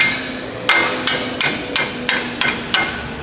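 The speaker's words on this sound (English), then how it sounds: "I should be just able to just tap these bolts out of here." A hammer taps bolts out of a car strut during a CV axle replacement, seven sharp metallic strikes at a steady, slightly quickening rhythm, close and loud with ringing decay.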